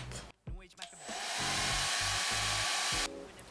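A hair dryer blowing on wet textile paint on a painted tote bag switches on after a brief moment of handling, running close with a steady loud whoosh for about two seconds before cutting off.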